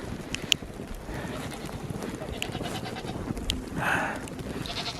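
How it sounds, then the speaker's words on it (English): Goats bleat on a farm in a blizzard, a few short bleats rising out of a noisy outdoor background with faint hoof and movement sounds. "Have some goats here."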